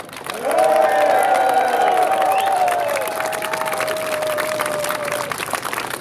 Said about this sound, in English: join me in giving a huge cheer for the Russian anti-war campaigners